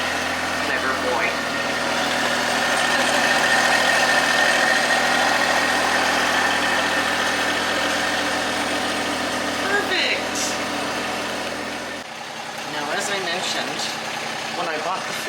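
A heavy engine idles steadily and close by, a low rumbling drone with vibration, continuing for the whole stretch with a slight change near the end.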